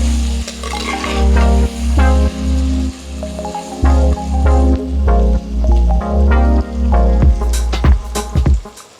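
Green chillies and tomatoes stir-fried in a pan for a spicy dried-fish curry, with a steady oily sizzle broken by repeated scraping, clattering stirs of a spoon against the pan; no voices.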